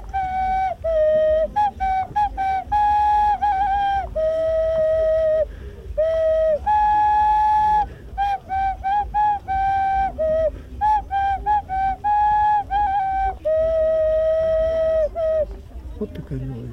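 A folk craftsman from Bogdanovka in Polesie plays a traditional clay whistle toy at a festival, giving a continuous melody of sustained, clear whistled notes. The notes step between pitches with brief breaks between phrases and sound loud and near.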